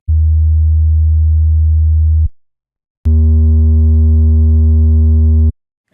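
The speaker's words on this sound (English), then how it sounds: "this produces a very warm, slightly saturated sine wave" Warm, slightly saturated sine tone from the core oscillator of a Xaoc Devices Sofia Transcendent Waveform analog oscillator, sounding as a loud steady low hum in two sustained notes separated by a brief silence.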